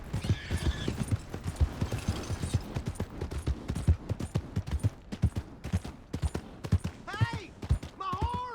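Horse hooves in the video game Red Dead Redemption 2, a rhythmic clip-clop run of hoofbeats with a horse whinnying near the end.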